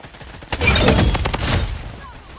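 A long burst of automatic rifle fire, apparently a Scar, in Blood Strike on PC, with loud, rapid cracks starting abruptly and trailing off after about a second.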